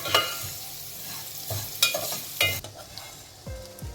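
Vermicelli dry roasted in a pan without ghee, stirred in repeated scraping bursts with a faint sizzle, close and fairly loud, with no talking.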